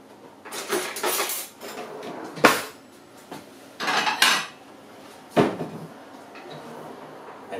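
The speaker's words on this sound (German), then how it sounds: "hol ich mal ein Messer." Cutlery and dishes clatter loudly in several bursts as a knife is fetched from a kitchen drawer, with sharp metallic clinks and a drawer or cupboard bump between quieter pauses.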